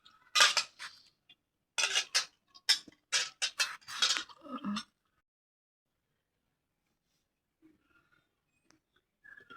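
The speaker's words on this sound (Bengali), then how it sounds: "এখন এই যে বেগুনের জন্য যে বেগুনটা কাইটে নিচ্ছি" A knife cutting eggplant in a home kitchen, with quick bursts of crisp chopping and clicks against a board for several seconds, then near silence with a couple of faint taps.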